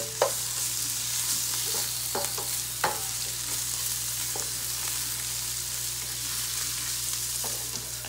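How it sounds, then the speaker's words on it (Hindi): Ginger garlic paste fries in a pan for masala fish while a spoon stirs it, giving a steady close sizzle broken by scattered scraping clinks and taps, with no talking. "पेस्ट को थोड़ा सा भून लेंगे।"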